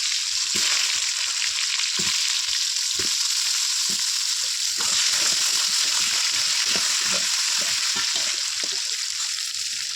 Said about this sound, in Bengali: এখন আমি কলাটাকে ভেজে নেবো ভালো করে।